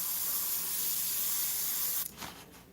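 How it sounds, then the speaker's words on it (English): A paint spray gun hisses in a steady, close burst while finishing a great white shark artwork, then cuts off sharply, followed by a couple of short faint puffs. "I'm just going to spray it."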